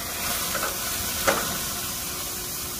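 Meat sizzles on a grill as a piece is turned over: a steady, close frying hiss runs throughout, with a brief brighter flare of sizzle and scrape near the middle.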